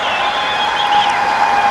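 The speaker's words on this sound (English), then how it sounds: "Great cheer from the team in red." Team in red cheering at a diving competition, a dense wash of crowd applause and shouting from the stands, loud and sustained across a brief moment.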